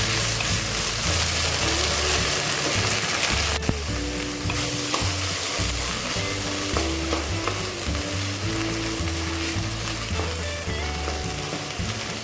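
Cluster beans (gavar), washed and wet, sizzle steadily in a teaspoon of oil in a kadhai, a close, continuous crackling fry with stirring scrapes and occasional clinks throughout.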